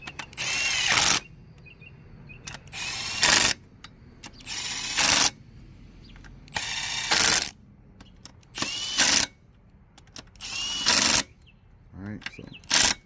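Power drill driving bolts into a Briggs & Stratton 675 Series 190cc mower engine on a Troy-Bilt mower, loud whirring bursts repeated about six times with brief quiet gaps between them, close up, with occasional speech in the pauses.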